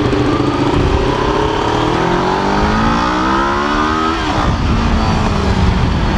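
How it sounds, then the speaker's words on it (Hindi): A 2019 Kawasaki Ninja 650 with an Akrapovic exhaust revs hard in first gear, its loud engine note climbing in pitch for about four seconds before dropping back and pulling again, close and continuous. "फिर से ट्राई करते हैं हम फर्स्ट गियर में जाने के लिए कि कितना जाएगा ये बाइक"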